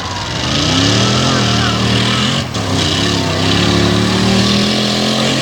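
An old Jeep engine roars as it races around a dirt track at a Front Royal off-road event, loud and sustained with shifting revs. Talk can be heard over the engine.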